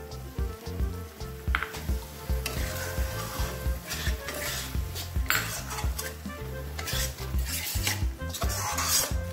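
Roasted ground masala paste goes into a pan for a Chettinad prawn curry and is stirred hard over the heat, with continuous sizzling and rhythmic scraping and clinking of a spoon against the metal pan, close and busy, no talking.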